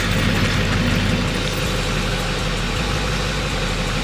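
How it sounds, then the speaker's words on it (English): A diesel truck engine idles loudly and steadily close by, a continuous deep rumble with no speech over it. "And now we got the diesel. Let's turn it on."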